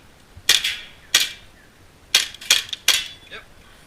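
Several sharp airsoft pistol shots crack and snap against targets during an indoor airsoft game, five quick bursts arriving in uneven pairs and singles, close and fairly loud.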